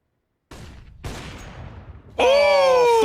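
Gunshots crack during a CS:GO match. Two sharp reports come close together after a brief silence, followed by a bright, ringing tonal sound.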